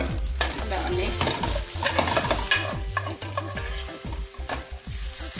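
Ackee and plantain stir-fry with jerk marinade being stirred in a pan: steady close sizzling frying under repeated scraping, clacking strokes of a utensil against the pan, with no talking.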